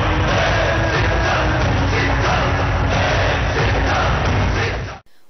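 A huge outdoor crowd at a YSRCP Siddham election rally in Medarametla roars, cheers and claps continuously, a dense, loud wash of voices and applause that cuts off abruptly at the end.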